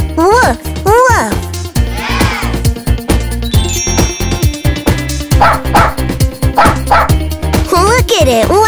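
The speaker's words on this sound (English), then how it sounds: "The dog goes woof, woof." Dog barking in a toy-filled kids' farm-animal scene, rapid repeated woof and yip sounds mixed with bright music and a voice, loud and busy throughout.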